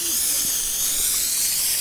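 A steady, continuous hissing spray of cleaning solution onto a mossy motorhome roof runs without a break, close and even, with no other sounds standing out.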